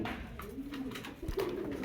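Racer and Spanish pouter pigeons give soft, low cooing nearby, a steady throaty warble with a slight swell near the end, and no talking over it.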